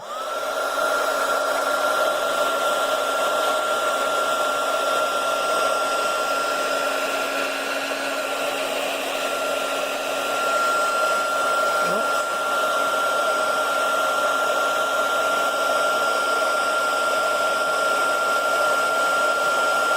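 A heat gun blows steadily on shrink plastic, a continuous close airy whine with a fixed motor tone that holds unbroken and fairly loud for the whole stretch, with no talking.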